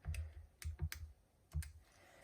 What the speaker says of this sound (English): We'll go ahead and type pi in the calculator.